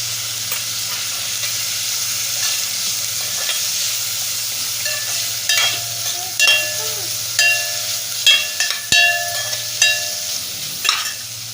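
Spices with asafoetida and turmeric fry in hot oil for masoor, potato and pea masale bhat, a constant sizzle under a string of sharp clinks and scrapes from stirring that grow more frequent toward the end.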